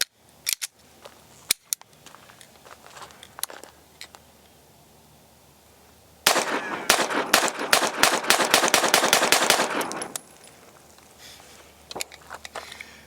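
Rapid pistol fire from a Tisas 2011 handgun: a few scattered sharp shots early, then a dense, fast string of loud cracks for about four seconds, followed by a couple more isolated shots.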